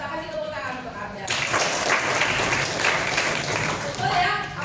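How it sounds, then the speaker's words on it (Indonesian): Group applause at a teacher coaching and academic supervision session, breaking out suddenly after a spoken lead-in and holding as a steady, fairly loud wash of many hands before tapering slightly. "Kita kasih tepuk tangan untuk Adam."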